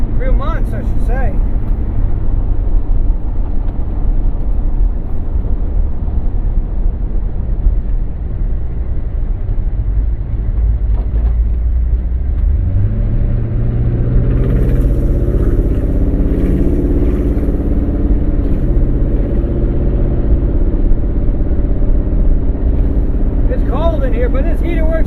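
A 1986 M1008 farm truck drives along a road, its engine a steady low drone with rattling cab noise and a deeper, rising pull partway through, with people talking over it.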